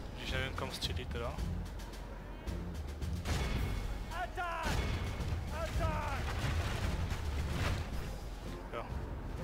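Cannons boom repeatedly during a battle in the strategy game Medieval II: Total War Kingdoms, with several dull, distant blasts scattered through a busy game soundscape while someone talks over them.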